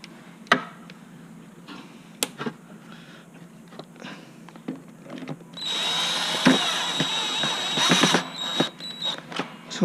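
A power tool fastens a nut on a Terrain/Ryder tri gearbox. It starts with sharp clicks and ticks, then settles into a sustained whirring buzz midway that stays close and fairly loud.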